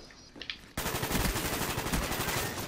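A sustained, loud burst of automatic AK-47 fire in the Call of Duty Black Ops video game kicks in abruptly after a brief quieter moment and rattles on continuously to the end.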